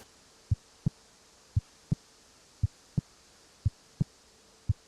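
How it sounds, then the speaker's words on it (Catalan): Steady heartbeat with paired thumps, lub-dub repeating about four times, low and soft over a faint hum. "És el soroll del meu cor."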